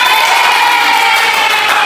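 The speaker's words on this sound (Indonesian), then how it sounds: "Kasih tepuk tangan." Students in an Islamic cultural history class cheer and clap together, a loud, dense burst of youthful voices and hands that stays steady for a couple of seconds.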